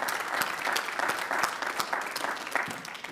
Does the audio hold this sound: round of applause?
yes